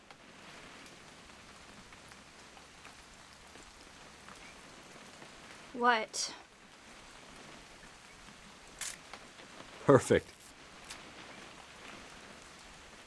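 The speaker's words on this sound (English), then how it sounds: "It's gonna rain the whole weekend, isn't it?" Light, steady rain in What Remains of Edith Finch, a soft constant patter behind brief spoken voices and a couple of sharp clicks.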